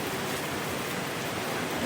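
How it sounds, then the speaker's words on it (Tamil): Heavy rain falls in a dense, unbroken roar, loud and close, with no voices over it for the full two seconds. "நல்லா மழை பெய்யுதுங்க."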